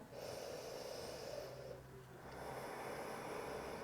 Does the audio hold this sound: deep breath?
yes